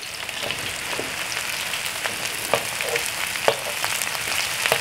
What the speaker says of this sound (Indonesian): ini sudah harum nih saya masukkan brokolinya